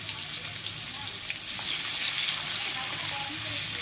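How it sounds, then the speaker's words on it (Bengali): Onion paste frying in a pan while browning to a reddish colour for a katla fish kalia curry, giving a steady, close, dense sizzle that holds throughout without pause and swells slightly midway. "পেঁয়াজটা লাল লাল করে ভাজা হয়ে গেলে ওর মধ্যে আমরা যে মশলা পেস্টটা করেছিলাম সেটা দিয়ে দেব"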